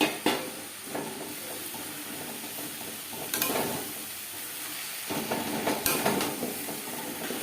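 Chicken pieces dropped into fried spices in a hot pan give a steady, close sizzle with clatters of stirring and two louder bursts of hiss as the meat hits the oil.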